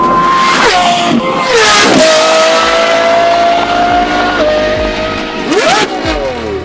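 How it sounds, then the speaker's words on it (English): A Lamborghini Revuelto with a 3D printed titanium non-valve catback exhaust and stainless steel Kevlar-shielded race pipes revs hard on a proving ground, loud and close, climbing in sharp sweeps and dropping between blips. "We've installed on this car our hybrid 3D printed titanium non-valve catback exhaust and stainless steel Kevlar-Shielded race pipes."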